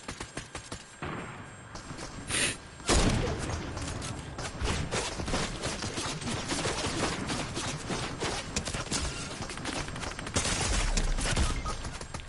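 Sniper rifle fire and other gunshots crack repeatedly in Fortnite, dense loud bursts and thuds running almost continuously, with a few especially heavy blasts near the start and end.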